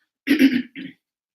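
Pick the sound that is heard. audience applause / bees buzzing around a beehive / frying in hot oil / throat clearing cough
throat clearing cough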